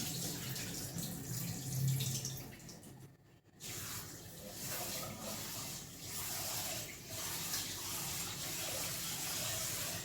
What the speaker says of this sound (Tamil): அரிசி வாஷ் பண்ணிவிட்டு அடுப்பில் வச்சிடலாம்